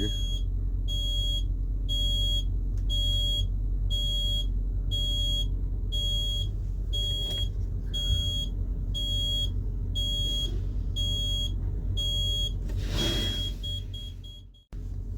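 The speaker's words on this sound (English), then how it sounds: "I think the alarm's going off here." A steady, rapid electronic alarm beep repeats in even pulses over a low engine-like rumble, continuing for several seconds before a brief rustle, from a broken-down Kenworth truck.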